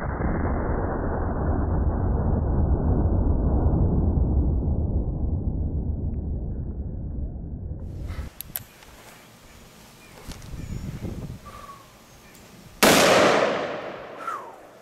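A Smith & Wesson 460ES .460 Magnum revolver fires with loud, sharp reports, the first ringing off with a long rumbling decay, then a second blast cracks out near the end amid faint background noise.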